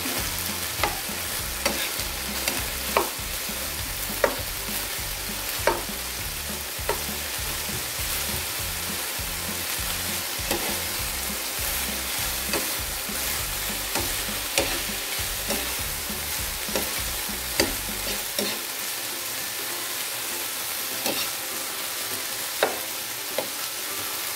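Onion sautéing with garlic in a pan for bihon guisado, a steady sizzle of frying under repeated clicks and scrapes of stirring, ending in a softer hiss.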